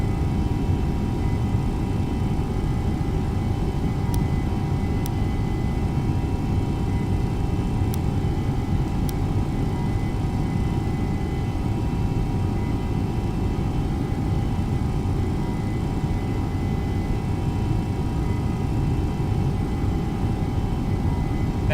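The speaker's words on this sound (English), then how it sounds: "Very bumpy on takeoff here." An airliner, a 737 or MD-11, taking off in a flight simulator game gives a steady, unbroken low rumble that stays at one level, broken only by a few faint, brief clicks.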